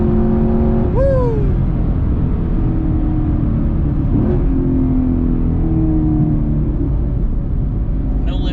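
A 2019 Chevrolet Camaro SS accelerates hard from inside the cabin, a loud, deep, continuous engine roar climbing through the revs with a quick no-lift shift that keeps the power on.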